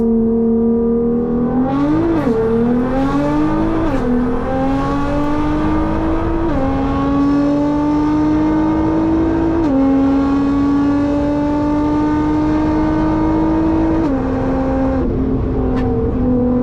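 A Nissan R35 GT-R engine accelerates hard from inside the cabin with the window open, its pitch climbing through several gears with brief dips at each shift, loud and continuous.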